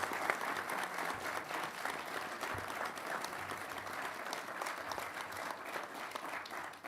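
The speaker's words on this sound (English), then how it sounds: "So another round of applause for them." A graduation ceremony audience applauds in a large hall, dense steady clapping that holds evenly at moderate distance for several seconds.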